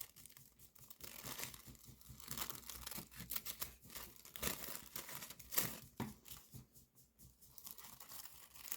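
Scissors cut through a paper sewing pattern in short, irregular snips with crisp crinkling and rustling of the sheet, close and fairly quiet, with no talking.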